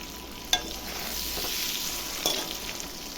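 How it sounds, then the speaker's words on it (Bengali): Eggs fry in oil in a pan with a steady hissing sizzle, punctuated by two brief clinks of a utensil against the pan. "তো ডিমটা আমি ভেজে উঠেছি"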